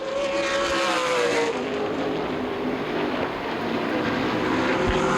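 Late model stock cars racing at Winchester Speedway in a CRA Late Model Sportsman event, engines roaring steadily and loudly as the pack passes close by, with no talk over the noise.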